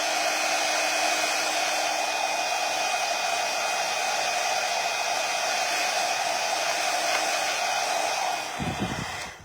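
A handheld heat tool blows a constant loud, close rush of hot air onto metallic foil art on a mannequin bust, steady for about nine seconds before cutting off with a brief clatter.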